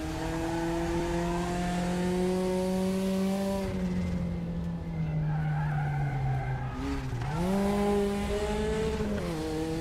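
A Porsche race car engine in RaceRoom racing game drones at high revs, its pitch sliding down then dipping and climbing again, steady and close throughout.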